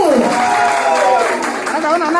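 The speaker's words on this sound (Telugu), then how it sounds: "ఒక్కసారి గట్టిగా చప్పట్లు" An audience at an IVF lab opening applauds as a guest is welcomed onto the stage, a steady wash of clapping running beneath a host's amplified voice.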